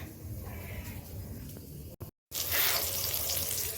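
Eggplant slices sizzling in a frying pan in a home kitchen, a steady crackling hiss that cuts out briefly, then returns louder and brighter.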